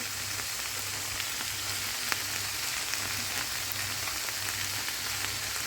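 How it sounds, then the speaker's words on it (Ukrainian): Cabbage sizzles steadily in a pan of fried sauce, a dense, even crackle of frying that holds at one level throughout with faint scattered pops and no voices. "Засмажку із соусом підсмажуємо буквально пару хвилинок. І сюди порційно накладаємо капусточку."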